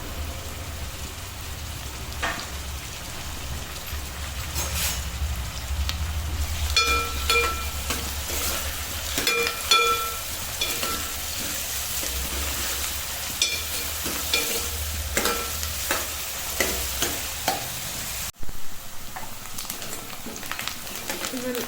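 Chopped onions and curry leaves fry in hot oil for a mushroom and egg curry while a spoon stirs them, steady sizzling broken by scraping strokes and soft clicks against the pan, close up.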